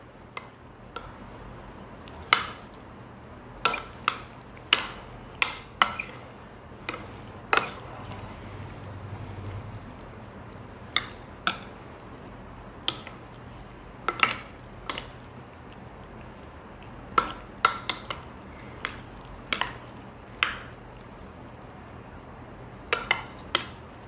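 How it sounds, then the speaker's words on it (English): A spoon clinks against a pot while stirring hamburger, black beans, jalapenos and soup for a Mexican pot pie, giving scattered sharp taps over a soft background hum, close and with no speech. "I'm going to take my spoon and I'm just going to stir this all around, get it all mixed together with the hamburger and the black beans and the soup."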